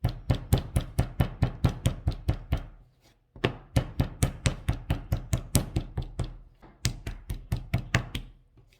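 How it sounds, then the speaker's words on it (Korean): A clay slab for a pottery candy basket is beaten flat by hand, giving fast, steady series of close, firm thuds in two long runs split by a brief pause, with no talking. "이렇게 돌려가면서 뒤집어져 가면서 이렇게 두들겨 줍니다"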